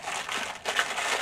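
Crinkly paper packaging from an AliExpress parcel rustles and crackles continuously for a moment, close up, with a louder crunch partway through and no voices.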